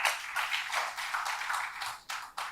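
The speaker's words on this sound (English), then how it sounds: "Let's add Doctor another round of applause." Applause from a conference audience for a doctor's presentation at a Pan African youth policy gathering: dense, steady clapping, moderately distant and quiet, with brief dips near the end.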